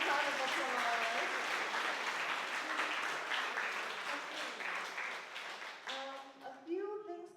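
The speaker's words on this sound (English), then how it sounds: "a big round of applause" Audience applause at a volunteer and care symposium, a broad sustained burst of clapping from a crowd that gradually thins out, with a voice starting to speak near the end.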